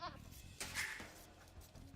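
A sheep in Age of Empires II lets out a brief, faint bleat over quiet game sounds.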